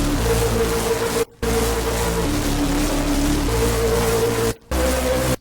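Serum synth bass carrying deep low end in a simple beat, sustained tones shifting pitch between held notes, with two brief dropouts of near silence; loud, dense and continuous with no voice.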